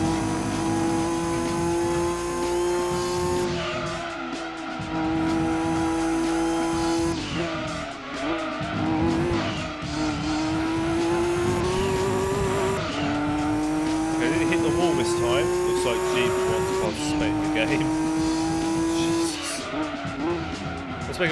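Race car engine droning at high revs in Gran Turismo 2, with the pitch rising and falling through gear changes and tires squealing and skidding through corners, steady and loud throughout.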